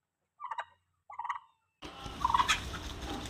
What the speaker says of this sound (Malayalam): ഇതാണ് നമ്മുടെ നാടൻ കോഴി. രാവിലെ കോഴിയൊക്കെ ഫുഡ് കൊടുക്കുന്ന രംഗമാണ് ഇവിടെ നടക്കുന്നത്